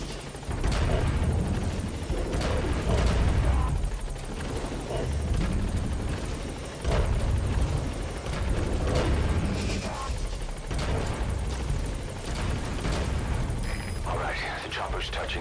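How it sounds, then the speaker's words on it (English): A helicopter touches down in the Metal Gear Solid V: The Phantom Pain game, its rotor making a loud, steady thudding roar close by, with bursts of gunfire and voices talking over it. "All right, the chopper's touching down."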